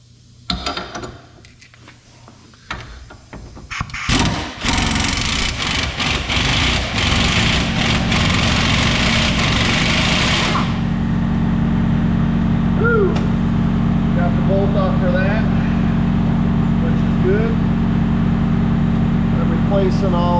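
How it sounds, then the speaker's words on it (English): An air compressor runs in a garage during suspension work on a 1993 Ford Mark VIII, starting after some clanks and handling noise, then holding a loud, steady mechanical drone and hum with brief speech over it. "Enjoy the sound of the compressor running."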